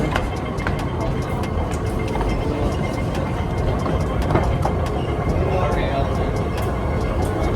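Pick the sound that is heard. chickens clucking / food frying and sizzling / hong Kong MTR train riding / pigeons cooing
hong Kong MTR train riding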